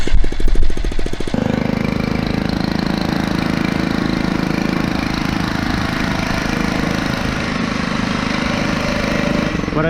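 A Phatmoto Rover 2022 motorized bicycle engine with a Hilliard clutch runs during a ride, loud and close. It has a fast, rattly putter that starts choppy and then settles into a steady drone.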